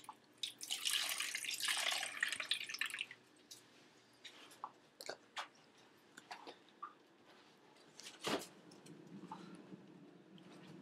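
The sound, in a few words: water poured into an ice tray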